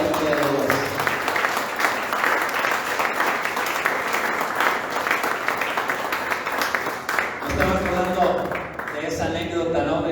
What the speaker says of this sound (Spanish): Dale fuerte ese aplauso a la gloria de Dios.